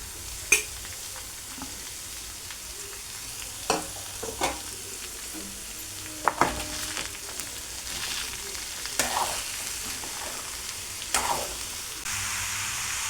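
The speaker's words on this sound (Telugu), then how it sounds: "ఇప్పుడు పప్పు వేగిపోయింది ముక్కలు వేసేసుకుంటాను ముక్కలు కూడా కొంచెం వేగాలి" Ridge gourd pieces and chana dal fry in a pan with a steady close sizzle, while a spoon stirs and scrapes against the metal now and then in scattered knocks.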